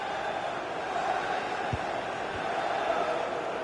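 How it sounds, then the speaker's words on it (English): An annoyed football stadium crowd in EA Sports FC 26 murmurs and jeers as a broad, steady roar, distant and even throughout, with a couple of faint thuds beneath. "Well, listen to that. You can sense how annoyed the crowd are."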